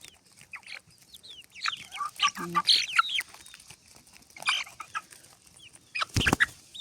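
Chicks cluck and peep in quick irregular bursts close by while pecking corn from a hand, with soft pecking taps and rustling throughout.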